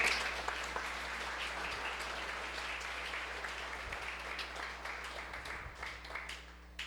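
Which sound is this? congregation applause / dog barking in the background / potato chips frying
congregation applause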